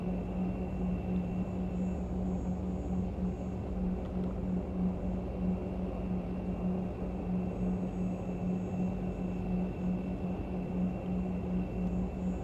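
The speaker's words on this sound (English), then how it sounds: "Voice versus aircraft sounds." Steady simulated aircraft engine drone from the X-Plane 11 flight simulator, a continuous low hum with a strong tonal band, even and unbroken throughout with no talking.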